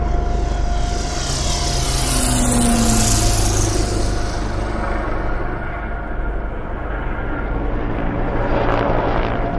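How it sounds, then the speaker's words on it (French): Propeller-driven carrier aircraft take off from an aircraft carrier, a loud continuous engine roar and airscrew buzz holding steady throughout with no voices. "Les avions transporteurs décollent des porte-avions"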